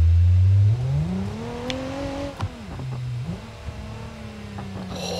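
Car engine in the BeamNG.drive driving game revving loudly at first, then the pitch climbs and falls through gear changes, then settles into a steady mid-pitched drone, with no talking.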